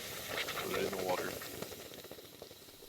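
A blade of hot forged metal is plunged into water in the video game Kingdom Come Deliverance 2, giving a brief bubbling hiss and sizzle that fades quickly, with a voice speaking over it.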